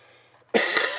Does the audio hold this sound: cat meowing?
no